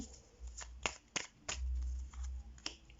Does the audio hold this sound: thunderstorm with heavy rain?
no